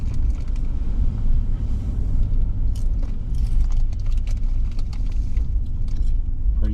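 A four-wheel drive vehicle driving on a snowy dirt mountain road, heard from inside as a loud steady engine and tyre rumble with rattling and bumps, no talk.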